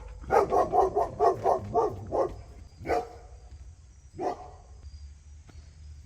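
A dog barks in a quick run of about eight barks, then a few separate barks follow after pauses, moderately close.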